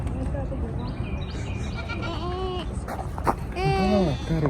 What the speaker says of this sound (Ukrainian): Козочка, козочка мє.